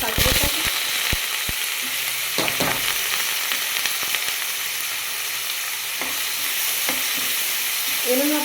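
Chopped onions and vegetables frying in hot mustard oil in a pan, a loud continuous sizzle with scattered stirring clinks and scrapes, close and with no talking.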